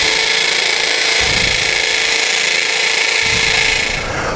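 A masonry combo bit drills into hard tile to set anchor leads for sidewalk bolts, a loud, steady power-tool whine running throughout with slight surges in load, close and alone.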